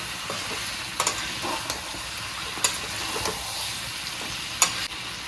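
Chicken frying in oil in a pan, salted and stirred, gives a steady soft sizzle with a few sharp scrapes and clicks from the spoon, fairly quiet and with no talk.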